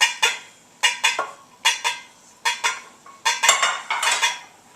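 A metal cooking pan clatters and scrapes in quick repeated bursts while wilted cooked spinach is moved onto a chopping board, sharp clanks coming in an uneven rhythm close by.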